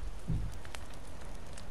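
A campfire crackles in The Forest survival video game, sparse sharp pops and snaps over a soft, steady hiss that sounds much like rain, with one duller thump near the start.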